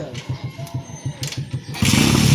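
A motorcycle engine turns over in a quick, even run of cranking pulses, then catches and fires into a steady, loud running roar after first refusing to start.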